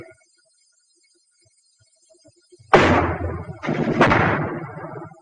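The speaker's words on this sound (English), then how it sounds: "Our machine gun has a good position." World War II machine gun fire: after near silence, two heavy, close bursts of rapid shots ring out back to back and fade with a rumbling tail.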